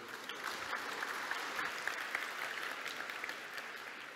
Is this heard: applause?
yes